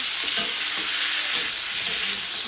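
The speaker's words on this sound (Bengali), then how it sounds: "এদিকে বসালাম মাছের ঝোল" A pan of Bengali fish curry with potato and drumstick cooks steadily, giving a close, continuous sizzle with light stirring and faint scraping and no voices.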